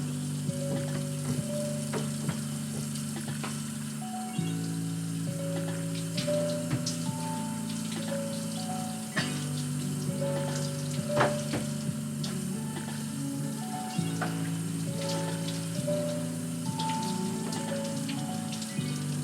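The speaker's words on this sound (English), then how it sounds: "So our chicken is starting to sizzle, which is good." Chicken sizzles and fries in a pan, a continuous crackling hiss with scattered pops, close by and steady throughout, with low sustained musical tones playing underneath.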